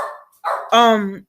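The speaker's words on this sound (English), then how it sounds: "sorry for the dog," An old dog barks indoors close by, a short burst of two or three rough, voiced barks, with a bit of speech nearby.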